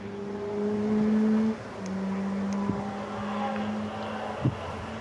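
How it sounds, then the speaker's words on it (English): Silhouette race cars at Snetterton circuit pass with steady, droning engine tones that shift in pitch as they go by, loud against wind noise, with a couple of sharp pops. "In 6th place currently is the number 6 car, that being Ian Hales"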